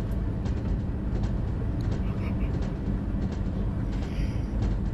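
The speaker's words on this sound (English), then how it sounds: "Whereas here you can hear the engine noises constantly, especially when it accelerates." A BR Class 215 train's engine drones steadily in Train Sim World 2 on a Northern Trans-Pennine route, a constant loud rumbling hum with faint rhythmic clicks layered on top.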